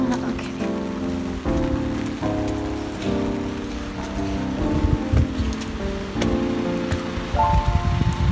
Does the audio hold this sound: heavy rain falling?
yes